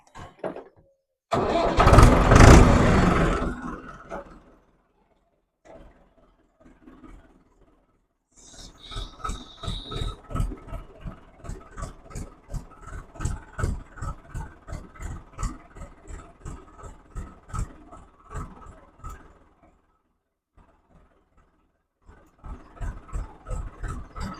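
A tractor engine on a Punjabi farm cranks with a loud rasping burst, then catches and settles into a steady, throbbing idle nearby before briefly cutting out and restarting.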